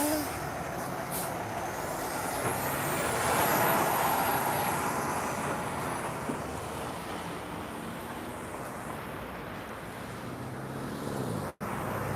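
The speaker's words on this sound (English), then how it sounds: "Lots of trucks here for your Friday afternoon." Heavy trucks roll by on a busy Toronto street on a Friday afternoon, with a steady, loud traffic roar that swells and fades as vehicles pass. A hiss like an air brake comes through, and a brief dropout sits near the end.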